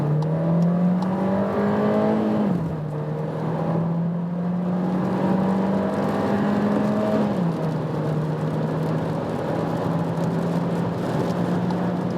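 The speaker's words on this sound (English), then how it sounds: "Let's put to that sports mode, see how this 150 horsepower can bring us on that German motorway" VW Taigo 1.5 TSI with 150 horsepower accelerating hard in sports mode on a German motorway, engine drone climbing through the gears with two audible shifts, under steady road and wind noise.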